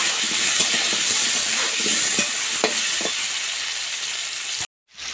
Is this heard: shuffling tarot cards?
no